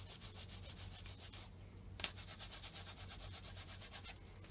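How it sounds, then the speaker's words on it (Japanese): Leather is rubbed to a polish, a faint, close, rhythmic swishing of quick back-and-forth strokes with a short pause and one small tap midway. "また細かいのでこうやってまた磨いてとか"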